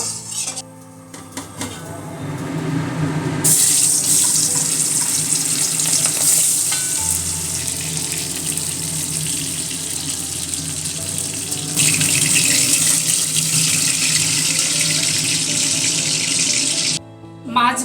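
Fish fries in hot oil with a loud, continuous crackling sizzle, brightening in strong bursts mid-way and near the end, with a low rumble beneath and no one speaking.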